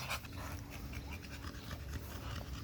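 An American Bully dog pants steadily and close by, quick rhythmic breaths running through the whole stretch at a moderate level.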